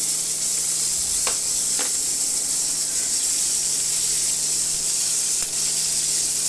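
Boal fish sizzles loudly in hot oil in a constant close hiss, with a few brief scrapes and clicks as the pieces are turned.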